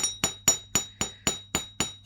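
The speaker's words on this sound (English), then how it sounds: "Going to hammer." Light hammer blows strike wire being shaped into a pendant: about nine evenly spaced, sharp metallic taps, close and crisp, each with a brief ringing clink and no talking.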